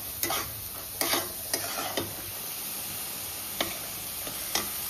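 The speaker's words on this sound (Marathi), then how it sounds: "सो तसं होईपर्यंत आपण छान भाजून घ्यायचं मसाल्याला." Spice masala roasting in oil in a home kitchen, a steady soft sizzle with a few sharp stirring clinks and scrapes at irregular intervals, close and moderately loud with no talking.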